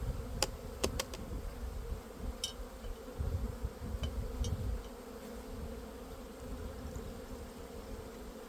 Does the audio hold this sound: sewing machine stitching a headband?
no